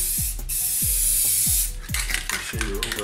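Short, hissing bursts of clear coat spray from a rattle can, two or three close, steady sprays with brief pauses and a few light knocks and clinks between them.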